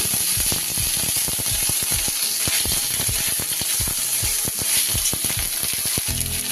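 Ginger paste sizzles in hot oil in a pan with salt already added, while a utensil stirs it in steady clicking scrapes over a loud, continuous frying hiss.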